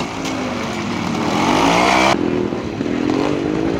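A BSA Bantam motorcycle engine runs steadily at a pre-unit trial in Branshaw quarry, rising to a louder rev before dropping back to a rough, continuous two-stroke drone close by.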